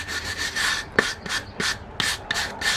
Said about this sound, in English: then you can clean the surface of your sanding block so you get a better grit on the sandpaper